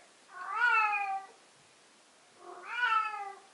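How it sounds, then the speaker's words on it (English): A cat gives two drawn-out meows about two seconds apart, close and clear against a quiet background. "the kitty is wanting to make sure she is heard on camera"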